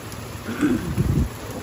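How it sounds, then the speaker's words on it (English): Rain begins falling with a steady, fairly loud hiss and patter outdoors beside a meat smoker, with a low rumble swelling and fading. "So it started raining as soon as I was done wrapping all the meat."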